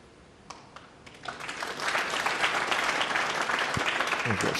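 A smattering of applause rises from the crowd at a snooker match between Allen and Robertson at the 2018 Champion of Champions, starting sparse and building to a steady, moderate clatter of hand claps.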